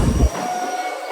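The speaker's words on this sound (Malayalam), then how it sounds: "അങ്ങനെ നമ്മുടെ ട്രെയിൻ എടുത്തിരിക്കുക കേട്ടോ." Passenger train rolling out of Coimbatore Junction, a brief low rumble giving way to a steady rail hum with a faint high whine, heard from on board.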